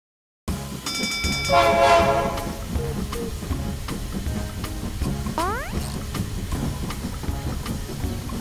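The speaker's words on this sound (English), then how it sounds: "That's right, it's Mr. Train." A toy train in a children's app game chugs along steadily with a tooting horn near the start and whistle sweeps later, cartoonish rail sounds running continuously.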